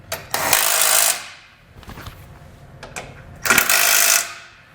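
An impact wrench with a 16mm socket tightens base plate bolts on a 2021 Jeep in two loud, rattling bursts of about a second each, with quieter clanks and handling noises between them.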